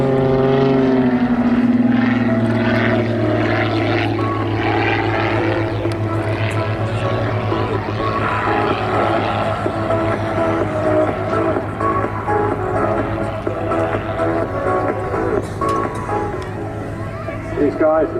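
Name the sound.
Murdy CAP232 aerobatic planes flying at airshow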